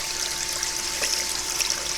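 Water trickles and gurgles steadily over a screen while gold prospecting, a close, continuous liquid dribble with small splashy bursts and no speech.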